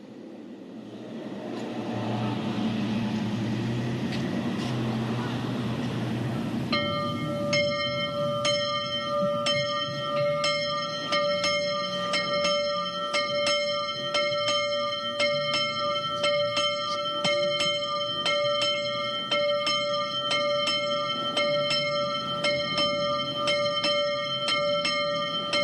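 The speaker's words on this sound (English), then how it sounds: "today we're hearing the ringing of that bell." A 150-year-old church's bell rings out on its anniversary, repeated resonant strikes with long sustained tones layered into a continuous peal after a low rumbling start, loud and steady with no voices.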